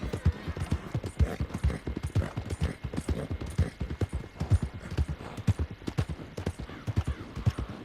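A horse's hooves clip-clop steadily in Red Dead Redemption 2, a brisk, even rhythm of close, crisp hoofbeats continuing throughout, with faint ambient noise beneath and no talking.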